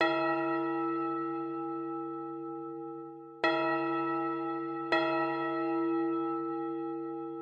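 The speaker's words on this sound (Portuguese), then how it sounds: "Solta o sino." Church bell tolling during a parish announcements segment, three clear resonant strikes with long ringing decays, the first at the start and two more in close succession later, heard alone and moderately loud.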